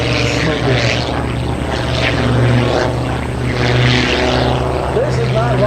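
A propeller airplane at a 2017 Northeastern Pennsylvania airshow drones steadily and loudly throughout, its engine tone swelling and fading slightly, with people talking in the background.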